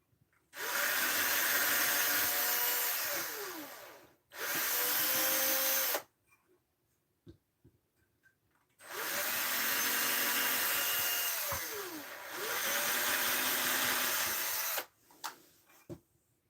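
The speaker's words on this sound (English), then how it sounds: "I swear if I have to get this tiny itty bitty drill bit and use it, I will." A small hand-held drill fitted with a tiny drill bit, whining loudly in four long bursts separated by pauses, with quiet clicks and handling noises in the gaps.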